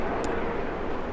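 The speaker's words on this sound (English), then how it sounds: "Whoa, that sounds like it's a helicopter." Helicopter passing overhead while hiking a forested Pacific Northwest trail, a steady broad engine and rotor rumble that fills the short stretch without breaks.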